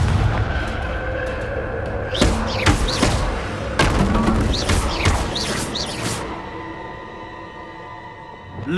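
Confringo blasting spell from a Harry Potter video game, a run of booming, crackling explosions with sharp bursts over several seconds. The blasts sit over a busy game backdrop and fade toward the end.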